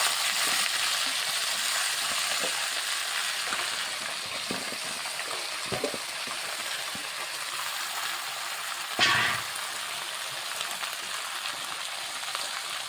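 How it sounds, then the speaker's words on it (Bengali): Flat beans, eggplant and potato fry in a pan with black cumin and chili, giving a steady loud sizzle throughout, broken by a few soft clinks and scrapes of stirring and one sharper knock near the end. "এখন আমি এই যে সিম বেগুন আলু দিয়ে দিচ্ছি।"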